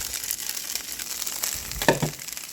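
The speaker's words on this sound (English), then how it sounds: "while that stuff is simmering down into a sauce" Flour gravy simmers into a sauce in a pan, giving a steady close sizzle and hiss with a slight bump in loudness near the end.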